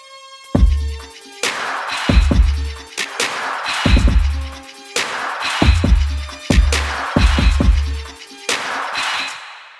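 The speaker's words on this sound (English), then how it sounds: "The full drums." Full drum pattern of a beat, punchy kicks with booming low tails and crisp snare or clap hits in a steady repeating groove, loud and alone without voices.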